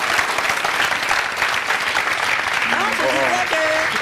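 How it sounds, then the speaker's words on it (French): Sustained applause from a live audience at a French-language show, dense steady clapping throughout, with a voice briefly audible over it near the end. "Applaudissez pour ceux qui n'ont jamais eu..."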